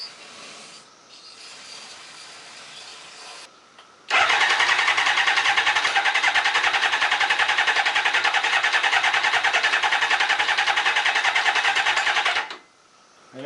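A Kawasaki ZZR 600 motorcycle engine cranks over on the starter after a dose of starting fluid, a loud, steady whirring churn that runs for about eight seconds without catching, preceded and followed by quieter background noise.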